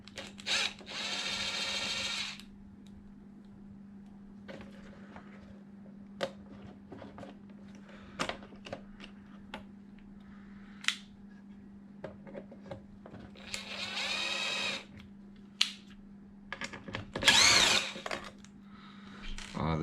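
A power drill drives out stainless steel screws from a Traxxas Slash 2wd RC car, a few short whirring bursts near and fairly loud, separated by small clicks and handling noises, with a person talking in between.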